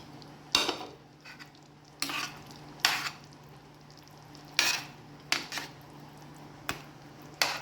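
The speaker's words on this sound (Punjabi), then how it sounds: "ਹੁਣ ਇਹਦੇ ਵਿੱਚ ਆਪਾਂ ਪਾ ਦਾਂਗੇ ਪਕੌੜੇ" Pakoras are dropped into kadhi in a pot with a series of clinking ladle-and-metal knocks every second or so, over a steady low hum and a soft stirring texture.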